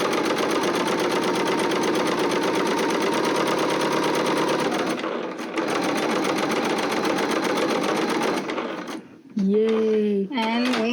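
A sewing machine runs steadily for several seconds stitching a project bag, pauses briefly, then resumes; near the end a voice briefly speaks over it.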